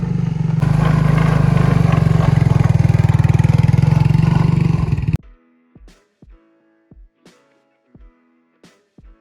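A four-wheeler ATV engine runs loud and close, holding a steady throaty idle for about five seconds before it cuts off. Scattered clunks and knocks follow in the quiet.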